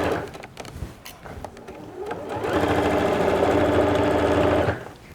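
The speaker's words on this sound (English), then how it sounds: "Nice strong little back stitch at the end." A sewing machine stitches a dungaree pocket, a steady run of fast rhythmic stitching that starts after some handling noise and ends with a short back stitch, close and loud.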